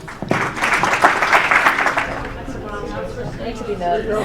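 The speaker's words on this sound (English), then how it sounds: "big round of applause for Amanda and Steve Goodall." Audience applause at a Tech Alley Henderson startup meetup, a close burst of clapping that swells for about two seconds, then fades into scattered claps under cheering and chatter.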